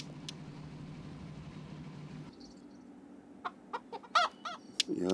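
Chickens in the farming game Hay Day give several short clucks in the second half, following a low continuous background hum that drops away partway through.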